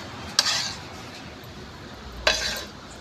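Bread slices soaked in egg, milk and sugar fry in a little oil in a pan with a soft, low sizzle, broken by two short scraping stirs of a utensil.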